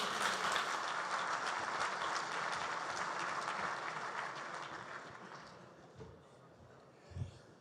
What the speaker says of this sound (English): Big round of applause for Andrew Marsh.